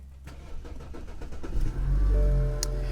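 A 2014 BMW 320i that has sat for three days cranks on its seven-year-old original battery, the starter churning for about a second and a half before the engine catches and settles into a loud, steady idle close by.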